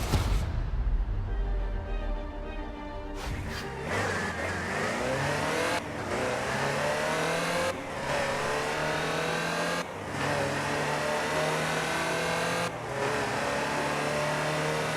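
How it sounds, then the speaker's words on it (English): Land Rover Type 3 utility vehicle driven in Forza Horizon 4, its engine revving loud and close through repeated gear changes, with brief dips in sound roughly every two seconds as it accelerates. "The next segment is about Land Rover, and we'll be starting out with the Type 3."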